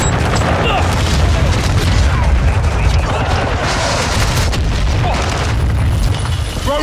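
Grenade and gunfire explosions in Call of Duty Modern Warfare 2 multiplayer, a loud continuous barrage of booming blasts and rapid shots packed close together throughout.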